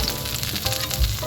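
Eggplant frying in oil inside a covered pan gives a steady, close crackling sizzle with small irregular pops throughout.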